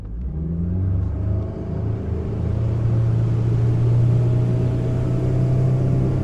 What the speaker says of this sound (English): Into gear, and we're gonna full throttle out of here.